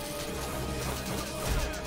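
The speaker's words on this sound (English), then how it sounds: "Keep smashing the ground open." Smashing the ground open in Lego Marvel Super Heroes on PC: a dense, continuous crunching crash of breaking game debris, steady and fairly loud for the whole stretch, swelling slightly near the end.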